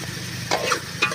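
Brinjal pieces are dropped into a pan of frying onions and tomatoes, producing a brief burst of sizzle and scraping over a steady frying hiss. The sound is close, and nobody speaks.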